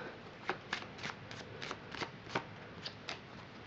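Playing cards are riffled and shuffled in a quick series of soft, crisp snaps. The sound is quiet and close.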